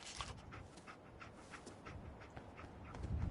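Dogmeat, the canine companion in the Fallout video game, panting and sniffing in quick rhythmic puffs, faint and steady throughout, with no one talking.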